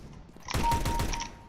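Rapid automatic gunfire in the video game CS:GO crackles as one dense, loud, close burst lasting about a second, following quieter background game noise.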